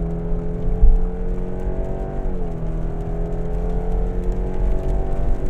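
A Subaru Outback accelerates at full throttle from a standing start, its engine note holding steady and strong close by and rising slightly in pitch, with no voices.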